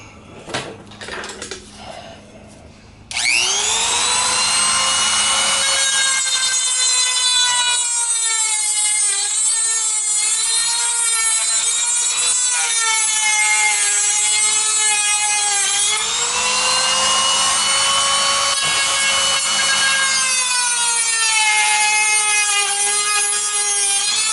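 A VW Beetle speedometer cable is cut with a power tool, which starts abruptly after a few quiet handling noises and then holds a loud, continuous high-pitched grinding whine that wavers slightly in pitch for about twenty seconds.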